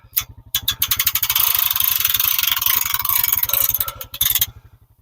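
A portable sawmill's engine runs steadily in the forest on a winter day, a fast even low pulse throughout, with a loud rising scrape-like hiss layered over it for most of the clip before it briefly drops away near the end.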